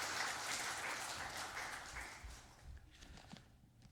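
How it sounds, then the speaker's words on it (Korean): A church congregation claps together in a sustained round of applause, dense and even at first and then thinning out and fading away, with no talking over it. "우리 감사 박수 한번 합시다"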